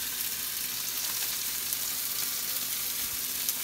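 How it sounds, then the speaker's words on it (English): Broccoli sizzles in a pan with a constant, even frying hiss, close and unbroken throughout. "after adding the mixed broccoli, I'm just going to let it sit, and I'm going to cover it"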